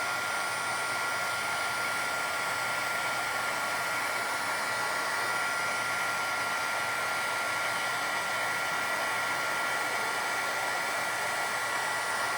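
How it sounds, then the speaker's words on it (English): A heat embossing tool blows a steady, loud hot-air whir across a stamped card to melt silver embossing powder, running unbroken and close throughout with no talking. "now we've got to heat emboss that as well to get that silver to"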